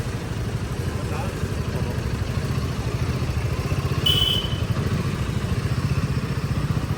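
Royal Enfield Himalayan 450 motorcycle on a test ride, its engine running with a steady mid-pitched rumble close by, while a person talks over it.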